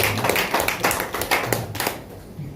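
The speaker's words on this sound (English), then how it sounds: "if you are clapping, clap very well" An audience at an official event gives a short burst of scattered hand clapping, a few uneven claps close by, which then stops abruptly.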